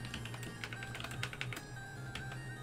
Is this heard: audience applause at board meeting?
no